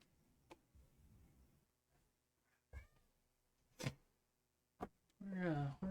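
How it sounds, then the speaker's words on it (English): A cat meows loudly, a drawn-out wavering yowl close by at the end, preceded by sparse clicks and quiet shuffling sounds. "Cat's just screaming at me."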